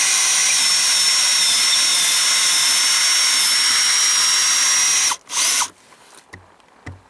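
A power drill bores a 5/16 inch pilot hole into an attic rafter of split 2x6 lumber, a loud, steady high-pitched whine held for several seconds, then a short final burst and a few knocks as it stops.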